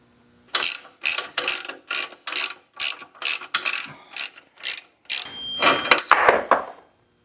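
A ratchet wrench works loose the brackets on a 1986 Honda Rebel 450 engine during teardown, giving about ten close, sharp bursts of rapid clicking in a steady rhythm, ending in a longer free-spinning ratchet whir.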